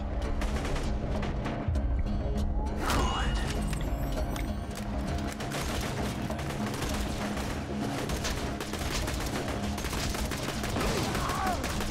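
Gunfire in a Borderlands 2 firefight, including shotgun blasts, comes as repeated sharp shots over a busy, noisy game mix, with a voice talking in places.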